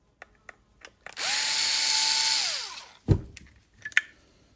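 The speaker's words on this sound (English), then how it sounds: "We got 1 screw here. Torx T8. Let's get that out." A small electric screwdriver whirs for about two seconds as it backs a Torx T8 screw out of a Dyson Gen5 vacuum, followed by sharp clicks and clatter of handling the parts.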